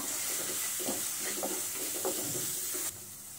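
A spice mixture with turmeric and salt for Mumbai vada pav sautés in a pan, making a steady, close hiss with several soft stirring scrapes, then turning quieter near the end.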